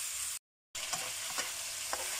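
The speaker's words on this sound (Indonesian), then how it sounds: "kita oseng sampai agak kekuningan, nanti kita kasih air sedikit" Goat ribs being stir-fried in a pan for a grilled rib dish: a steady close sizzle with a few scraping stir strokes, broken briefly by a short silent gap and no talking.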